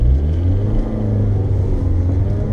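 Several cars, including a Renault Twingo, a Subaru Impreza and Audi A5s, pulling out onto a race track at Three Sisters circuit in Wigan, a loud, close, low engine rumble with droning harmonics that rise and fall slightly.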